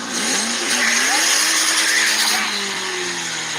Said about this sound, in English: You hear the turbo?